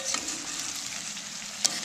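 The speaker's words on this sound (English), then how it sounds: "I'm frying some potatoes and onions" Potatoes and onions fry in a pan on a small outdoor cooker, a soft steady sizzle with faint crackles and one brief pop, heard up close and quiet.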